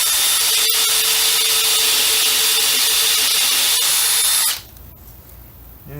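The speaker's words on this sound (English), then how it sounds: "take the drill, and we are going to want to drill it about that far into the piece of wood" Power drill boring steadily into a wood board for a dowel, a loud continuous high whine for about four seconds before the motor cuts off, leaving quiet room noise.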